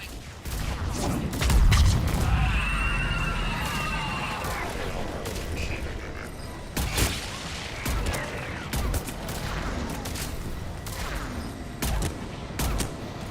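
Missile fire in the video game Mass Effect 3: a heavy burst of launches and explosions up front, then a run of sharp, repeated blasts and bangs that continue to the end, loud and close.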